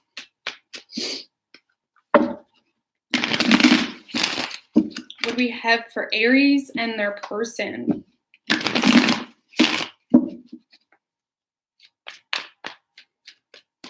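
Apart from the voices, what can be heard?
shuffling cards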